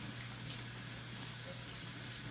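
Warm tap water runs steadily into a sink during handwashing, a constant broadband rush with no pauses and no voices.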